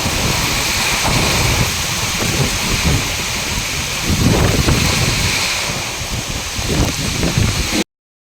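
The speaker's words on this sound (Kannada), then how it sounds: "ಇಲ್ಲಿ ಪುನಃ ಗಾಳಿ ಮಳೆ" Steady wind and rain at Manipal's Mannapalla Lake, a continuous broadband roar with gusty swells and buffeting on the microphone, loud and unbroken with no talking.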